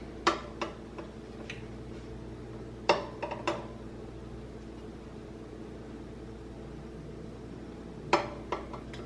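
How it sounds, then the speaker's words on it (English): Eggs dropped one by one into a pan, six in all, for boiling: a few sharp, close clinks and knocks in small clusters over a steady low kitchen hum, with no talking. "So this pan is gonna be for my boiled eggs. So I'm just gonna drop them in."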